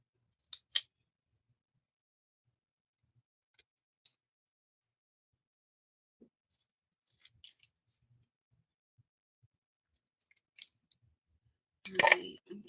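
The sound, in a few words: small scissors cutting out paper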